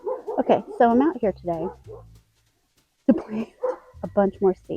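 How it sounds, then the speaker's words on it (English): Two dogs bark outdoors in a garden, intermittent and somewhat muffled, under a person talking close to the microphone. "my dogs are barking like crazy over here."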